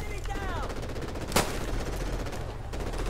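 Pistol fire in the video game Call of Duty 4 Remastered: one sharp, loud shot cracks out over steady game background noise, with a fainter report following a moment later.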